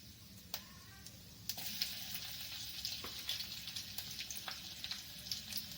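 Crushed garlic, cumin and mustard seeds fry in hot oil, making a soft continuous sizzle scattered with small pops and crackles, fairly faint and close.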